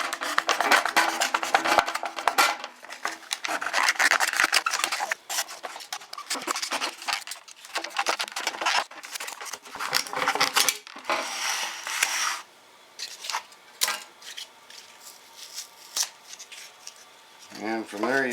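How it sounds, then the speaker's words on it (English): Utility knife slicing through homemade fire starter cubes, producing close, scraping and crackling cuts in irregular bursts with brief pauses and a speaking voice in between. "so I'm going to try it with a utility knife."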